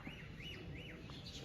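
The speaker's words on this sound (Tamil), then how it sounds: "குருவி சத்தம் கேட்டுகிட்டே இருந்துச்சுல்ல உங்களுக்கு." Sparrows chirping on a ride stop en route to Kodaikanal, a few rising-falling chirps repeating at an even pace over steady background noise, moderately faint and without talk.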